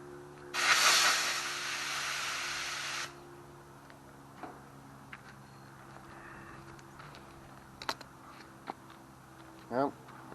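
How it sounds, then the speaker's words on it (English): An air compressor nozzle gives one loud, close blast of air lasting a few seconds while working on a Yard Machines push mower, followed by quiet shop rustling and a few small clicks. "let me get my air compressor real quick"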